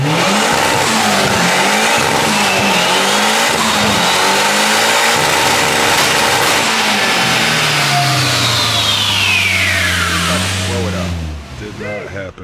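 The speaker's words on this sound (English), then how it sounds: "We slapped the turbo on it, I put on ethanol" A turbocharged Honda Civic running on ethanol revs hard on a dyno, its loud engine note climbing and falling in long sustained pulls before cutting off near the end, with voices talking over it.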